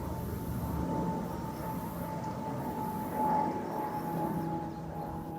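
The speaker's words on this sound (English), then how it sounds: "I can hear a plane going over." Aeroplane passing overhead near the Alcock and Brown landing site, a steady distant drone with a low rumble and faint tonal hum lasting throughout, swelling slightly midway, heard alone outdoors.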